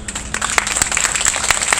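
Audience applause for a chamber orchestra at an outdoor music festival in a plaza at Taipei's Zhongshan Hall, a dense burst of clapping throughout, fairly close and lively.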